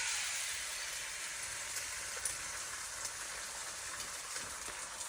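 An egg fries in a hot pan greased with cooking oil spray, giving a steady, close sizzle of fine crackling that runs unbroken the whole time with no talk over it.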